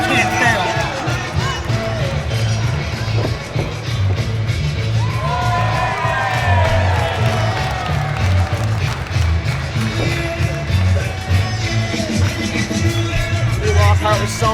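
A wrestling crowd at a Superstars of Wrestling house show cheers, whoops and yells in a sustained roar of overlapping voices, with commentators talking over it throughout.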